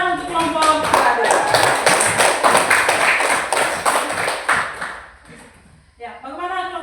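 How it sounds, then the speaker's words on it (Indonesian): Sixth-grade primary pupils clap for a group in a classroom, with many sharp, close hand claps in a quick, uneven patter that fades out. A teacher's voice then speaks. "tepuk tangan untuk kelompok berada"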